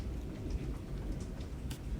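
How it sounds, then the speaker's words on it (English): Steady rain falls continuously outdoors as a dense, even hiss with low rumbling underneath, no voices. "If you guys hear any thunderstorms, it's just raining right now where I'm at."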